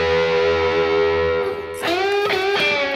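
Electric guitar lick in E using a faux slide whammy bar technique, with heavily effected, distorted sustained notes that bend and waver in pitch, played alone and up close.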